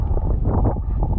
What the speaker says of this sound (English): And it's windy, and it is ugly,